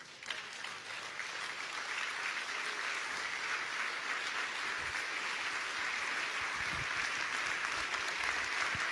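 A church congregation applauds to acclaim the Lord. The sustained, dense clapping fills the room, rises in the first couple of seconds and then holds steady throughout.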